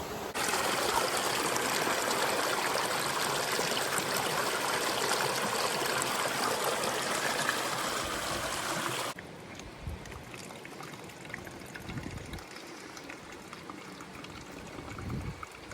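Kilby Creek on the Appalachian Trail flows nearby with a loud, steady rushing babble, then quieter trickling water with a few soft handling bumps once the sound drops about midway.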